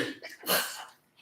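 A single short, breathy burst like a sneeze, fairly close and moderately loud, with softer breaths before and after.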